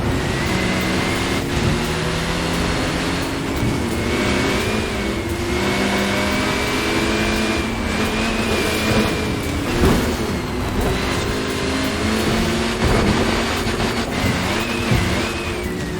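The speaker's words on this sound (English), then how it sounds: "over revving the engine like crazy" In Forza Horizon 4, a simulated car engine is pushed into repeated over-revving. It produces a loud, sustained high-pitched whine that climbs and drops with gear changes, heard steadily and alone.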